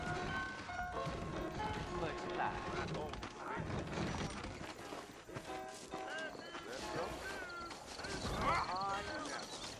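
Horses in the Red Dead Redemption video game, hooves clip-clopping in a steady gait with an occasional whinny, heard under game music and character voices.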